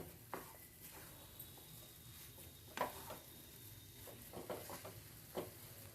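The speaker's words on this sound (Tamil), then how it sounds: "நம்ம முந்திரி திராட்சை வறுத்து நம்ம இதில் போட்டுக்கலாம்" Cashews and raisins roast in a pan, a faint, soft sizzle broken by occasional scraping stirs, quiet and close.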